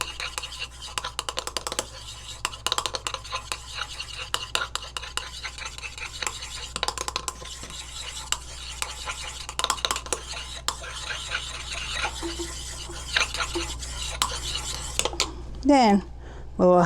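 Aloe vera lotion is stirred in a bowl, giving rapid close scraping and clicking strokes in irregular bursts, with a few faint voiced sounds near the end.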